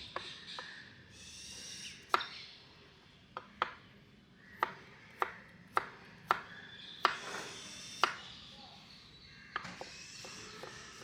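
Sharp, quiet knife taps on a cutting board while chopping cherry tomatoes arrive in an irregular series of a dozen or so chops, close and faint.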